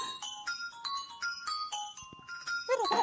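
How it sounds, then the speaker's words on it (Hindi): A bright electronic mobile phone ringtone melody plays in repeating phrases of chiming tones, fairly close, ending with a brief burst of other noise. "अरे तेरा फोन बज रहा है।"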